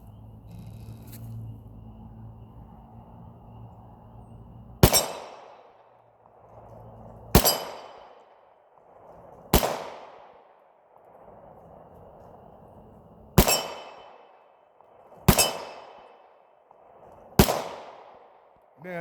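Glock 22 Gen 4 .40 caliber pistol fired outdoors: six sharp, loud gunshots spaced a few seconds apart, each cracking and decaying quickly into quiet.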